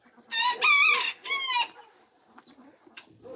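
A rooster scratching in a wheelbarrow lets out two loud, drawn-out calls, then gives softer, scattered clucks nearby.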